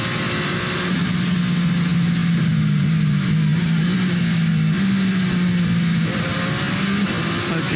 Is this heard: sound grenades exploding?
no